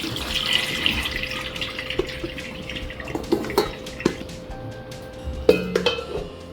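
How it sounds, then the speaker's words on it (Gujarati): Water from soaked raw mango pieces strained through a mesh sieve into a metal pot, with light splashing and dripping, clinks of the sieve against the pot and a few sharp knocks near the end. "આ રીતે તપેલું લઈશું, એના ઉપર જાળી મૂકીશું અને આ પાણીને નિતારી લઈશું"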